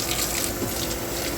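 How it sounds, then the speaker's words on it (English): Water runs from a tap into a mayonnaise jar, a steady splashing gush that holds evenly at close range with no talk. "I'm going to add just a little bit more water"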